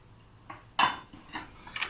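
A utensil stirs onions and tomatoes in a pan in several short, separate clinks and scrapes, close and fairly crisp. One stroke is louder than the rest.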